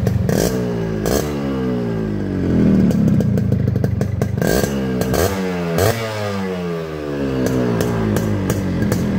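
A Japanese Yamaha RXS 115 two-stroke motorcycle engine idles and revs up and down nearby, its putter rising and falling in pitch with clattering bursts, loud and alone.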